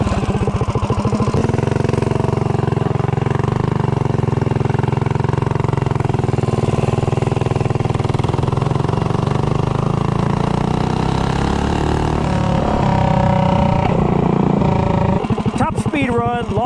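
A Predator 212 small engine fitted with a long intake manifold runs flat out on a top speed run, giving a loud, steady, buzzing drone held at high revs that wavers and surges briefly near the end.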